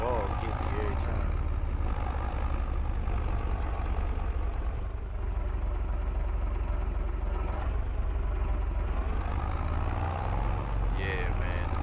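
A tractor engine in the Farming Simulator 22 video game runs steadily through the whole stretch, a dense low rumble with a constant loud drone and no breaks.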